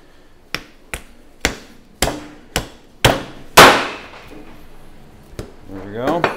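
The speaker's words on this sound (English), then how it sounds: "I'm gonna give the cleaver a whirl." A meat cleaver chops through a lamb carcass in a series of sharp, loud, evenly spaced whacks, about eight blows, with a brief voice heard near the end.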